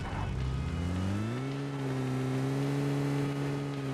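A car engine in PUBG Mobile rumbles close by, its pitch climbing partway through as it accelerates, then holding a steady drone.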